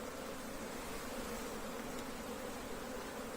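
Honey bees buzz at an apiary hive as a colony is being split, making a dense, continuous swarm drone that holds steady throughout with no voices.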